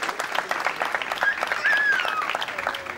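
An audience claps loudly and steadily at an evening event, a dense, sustained round of applause that holds for the whole stretch with a faint voice or two underneath.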